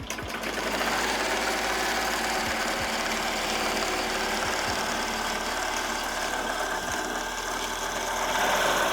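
An embroidery machine stitching a hoodie in a home studio makes a continuous, rapid mechanical whirring and clattering, steady and close, with faint regular knocks underneath.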